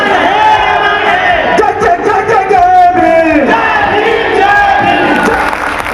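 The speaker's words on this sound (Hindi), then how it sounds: "ये भीड़ आप जो देख पा रहे हैं कि पूरा पंडाल अभी भी खचाखच भरा हुआ है" A large crowd fills a packed tent at a cultural welcome event in Ghazipur, cheering and shouting loudly and continuously, with a dense roar of many voices and rising whoops throughout.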